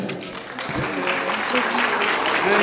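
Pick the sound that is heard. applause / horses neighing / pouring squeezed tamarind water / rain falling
applause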